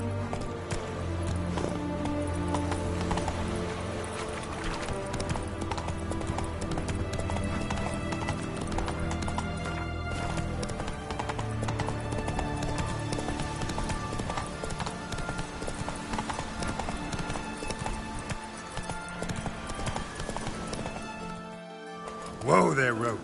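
Roach, a horse in the video game Witcher 3, galloping with steady rapid clip-clop hoofbeats that run continuously under game music and ambience, with a whinny near the end.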